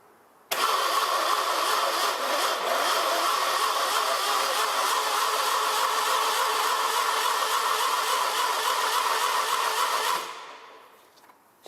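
A rebuilt 1968 VW air-cooled engine for a 1971 Bus spins up suddenly and holds a steady, loud whirring drone for about ten seconds during an oil pressure test, then winds down and fades.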